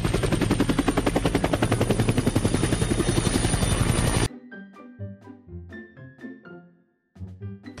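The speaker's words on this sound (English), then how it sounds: "Helicopter." A helicopter's rotor chops loudly and steadily for about four seconds, then cuts off abruptly, giving way to sparse, quieter tones.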